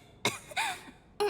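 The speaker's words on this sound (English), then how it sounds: "these seem like the same symptoms as Paimon. The shivering, the cough" A character in the Genshin Impact video game coughs in three short, harsh bursts, close and clear with nothing else around them.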